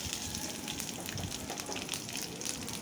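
Chopped green chillies sizzle in a little oil in a wok, a close, steady crackling fry with no talk.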